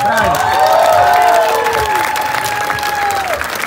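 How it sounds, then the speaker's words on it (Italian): A crowd at an outdoor metal festival applauds and cheers loudly and continuously, with whistles and shouts rising over the clapping. "Un applauso anche ai servi dei due padroni che hanno suonato prima di noi."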